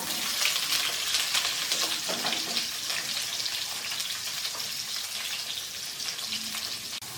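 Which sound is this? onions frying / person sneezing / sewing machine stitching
onions frying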